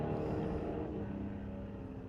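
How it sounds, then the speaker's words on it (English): Drag racing cars at a street-legal night event at Mission Raceway Park, a steady, fairly distant engine drone that fades slightly over a couple of seconds. "Sweet sounds of drag racing."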